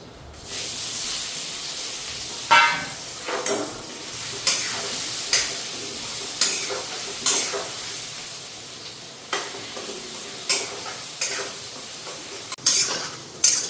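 Potatoes frying with spices in a pan: a constant soft sizzle broken every second or so by sharp scraping stirs of a spoon against the pan, close and with no talking.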